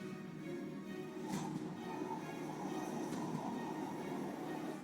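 Steady low rumble of a moving train heard from inside a carriage, with a faint clatter of wheels and no talking.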